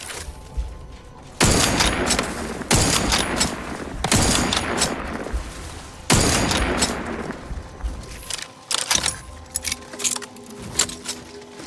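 Heavy weapon bursts in The Outer Worlds 2 sound in four loud, distinct volleys, each with a booming onset and a trailing rumble, then give way to quieter scattered clicks and impacts.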